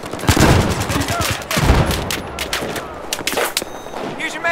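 Rapid gunfire in the video game Battlefield 4, Gulf of Oman map: dense overlapping bursts and single shots crack close and loud in quick succession, with game noise beneath.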